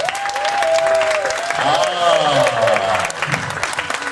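A church congregation at a night vigil in Paris claps and cheers to acclaim the Lord. The applause is sustained and loud, with sung or shouted voices rising over it.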